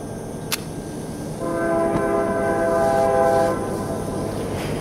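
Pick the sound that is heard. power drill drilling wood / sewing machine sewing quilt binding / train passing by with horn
train passing by with horn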